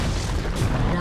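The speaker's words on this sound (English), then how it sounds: "Dire's middle tower has been destroyed." A tower collapsing in Dota 2 gives a dense, sustained rumbling crash with heavy low-end booms, loud and continuous through the short moment.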